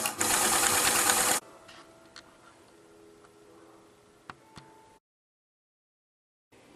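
A sewing machine stitches a kimono jacket sleeve seam 1 cm from the edge, running loud and steady for just over a second, then falling to a faint hum with a few soft clicks before near silence.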